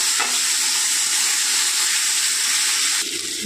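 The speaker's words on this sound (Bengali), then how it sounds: "পেঁয়াজটাকে ভালো করে নাড়াচাড়া করে নেবো, একটু লাল লাল করে ব্রাউন করে ভেজে নেবো" Sliced onions fry in a pan with whole cumin and garam masala for a chicken curry, giving a loud, steady broadband sizzle that holds for the whole stretch with no talking.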